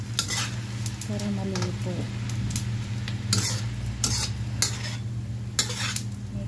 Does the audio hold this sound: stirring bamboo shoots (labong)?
yes